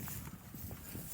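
Hooves of several horses clip-clopping through deep snow in a blizzard, a steady muffled plodding close by under constant wind noise.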